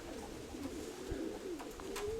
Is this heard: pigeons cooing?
yes